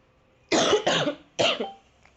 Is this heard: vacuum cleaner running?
no